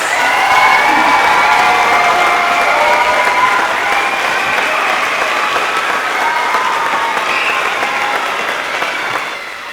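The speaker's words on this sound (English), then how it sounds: "a round of applause for Senior David Davis" Sustained applause from an audience at an elementary school music event, a dense steady wash of clapping filling the room for nearly ten seconds before easing slightly at the end.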